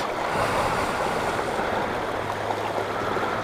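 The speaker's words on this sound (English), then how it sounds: "as the water runs through all the different pipes and hits the water, it's kind of got a waterfall sound to it" Continuous rushing of water pouring from pipes into a pool below, a steady waterfall-like roar with no breaks, close and moderately loud, with a low hum underneath.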